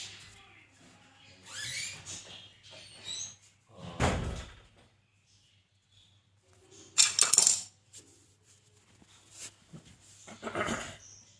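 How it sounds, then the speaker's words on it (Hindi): An indoor door swung shut in a room where parrots are kept, one low thump near the middle among scattered shuffles, clicks and a couple of brief rustling bursts, all at modest volume without speech. "दरवाज़ा में बंद कर देता हूँ ताकि सिर्फ एक तोते की आवाज़ आए"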